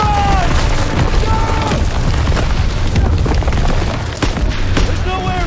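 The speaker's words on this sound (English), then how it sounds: "Artillery barrage!" An artillery barrage in the World War II shooter Call of Duty WWII: loud, continuous booming blasts and rumble fill the scene up close, with shouting voices mixed into the chaos.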